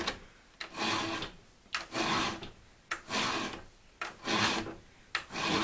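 A 5.5mm round file being pushed through the teeth of a 3/8-pitch chainsaw chain, giving five steady, even rasping strokes with short pauses between them, close up and alone.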